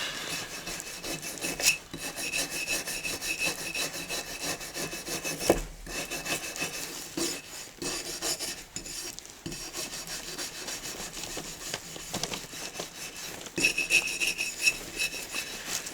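A brass brush scrubs a Stanley Bedrock 605 hand plane coated with Rust-Oleum Rust Dissolver, producing continuous close rasping strokes in an uneven back-and-forth rhythm with brief pauses, no speech.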